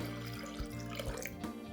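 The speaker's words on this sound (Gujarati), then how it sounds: "હવે આપણે એમાં 1 ગ્લાસ પાણી એડ કરીએ છે" A glass of water pours into a yogurt kadhi premix mixture, a short close splashing trickle with small bumps, brief and alone without talk.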